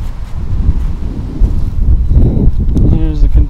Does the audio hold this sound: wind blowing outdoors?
yes